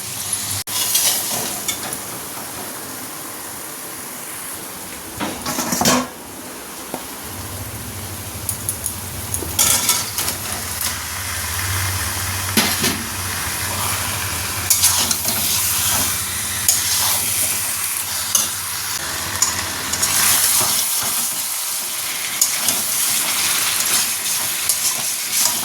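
Chicken frying in a pan while being stirred, a steady bright sizzle with intermittent scraping and clinks of the spatula, close and continuous, with a low hum partway through.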